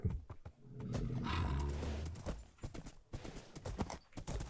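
Riding a Ravager in Minecraft Java 1.19.2, heavy rhythmic thudding footsteps with a deep growling roar in the middle, close and fairly quiet.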